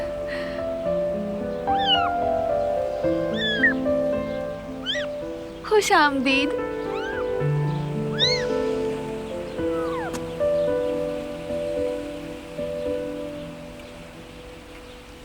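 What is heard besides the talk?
cat meowing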